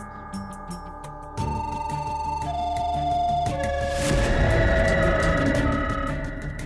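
Outgoing phone call ringing in a TV drama scene: steady tonal ringback and melodic ring tones sound alone, fairly loud, with rising layered tones toward the end and no talking.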